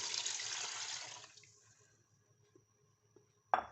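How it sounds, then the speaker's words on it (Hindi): About a litre of water is poured into a pot of beef, a loud splashing stream that tapers off after a second and a half into quiet, with a few small clinks and a sharp knock near the end. "अब मैं इसमें तकरीबन 1 लीटर जो है ना ये पानी डालूँगी"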